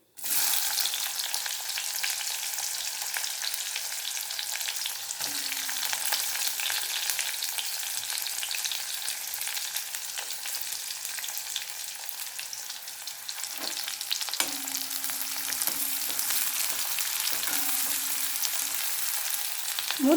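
Onions sizzling and frying steadily in a pan with ginger-garlic paste, coriander powder and turmeric, a dense continuous crackle with occasional stirring knocks and brief low tones, no talking.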